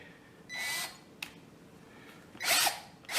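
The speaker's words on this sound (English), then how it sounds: "Just want to get a little pilot hole in there." A power drill bores a small pilot hole while an LED deer antler chandelier is assembled, in short close whirring bursts separated by pauses, with a quick click between them.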